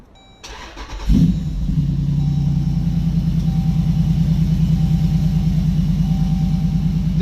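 A supercharged Jeep SRT8 cranks briefly, then fires up and settles into a loud, steady, throaty idle with a rhythmic low rumble, heard up close with no talking.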